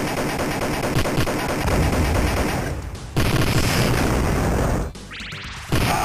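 Dense arcade gunfire from the Judge Dredd game, loud continuous volleys with explosive bursts and pops, briefly dropping out twice before resuming, no talk over it.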